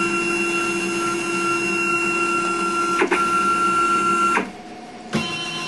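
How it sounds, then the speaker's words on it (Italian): Homemade CNC machine with bipolar stepper motors, wiring loose, driving its axes: a steady whirring motor whine with tonal hum holds close and loud for over four seconds, then stops briefly, with a short restart near the end. "Adesso vediamo un attimo la velocità di movimento della macchina"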